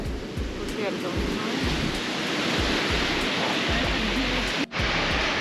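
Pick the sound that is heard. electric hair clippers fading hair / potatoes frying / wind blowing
wind blowing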